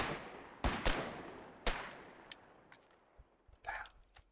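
Gunfire in the online war game Foxhole: a few sharp shots at mid-distance, a quick pair then a single crack, followed by fainter scattered reports and distant rumbles as the firing tapers off.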